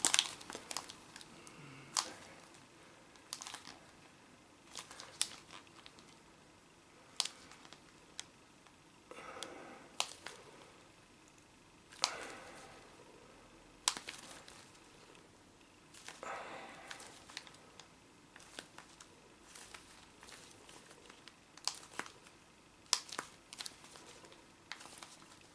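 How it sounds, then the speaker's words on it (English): Tape pressed into a headphone ear pad gives soft crinkling and scrunching noises close by, in scattered short bursts against a quiet background. "we're just going to go pushing into the ear pad and that tape just to be sure"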